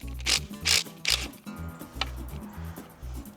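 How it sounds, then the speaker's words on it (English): Ratchet working loose Tapcon screws driven into concrete in a garage, giving three quick clicking bursts near the start followed by softer, sparser clicks and mechanical rattling, close to the mic with no talking. "And now I just need to take off these two screws at the back."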